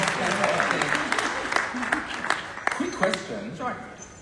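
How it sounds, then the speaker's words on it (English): An audience at a conference talk breaks into steady, close applause that fills the whole stretch, with voices speaking over the clapping. "round of applause."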